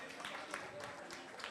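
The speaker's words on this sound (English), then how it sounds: "Round of applause for them." An audience applauds quiz teams at an Olympic quiz event: a quiet, continuous patter of many hands clapping, heard from a distance and at low level.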